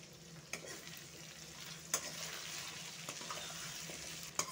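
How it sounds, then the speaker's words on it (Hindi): Potatoes frying in a pan give a faint continuous sizzle, broken by a few sharp clicks of a spoon or spatula against the pan, close and with no talking. "मैं आलू को भी थोड़ा फ्राई कर लिया"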